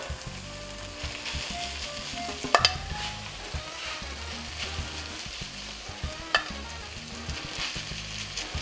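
Pulled beef arepa filling ingredients sizzle steadily in a hot pan, a continuous close frying hiss broken by a few sharp clinks of a utensil, with no talking.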